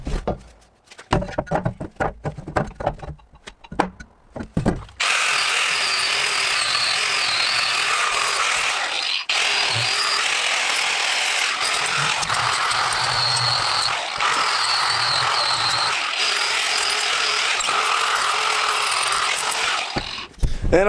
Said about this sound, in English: grind down where it needs to be grinded down just so it's smooth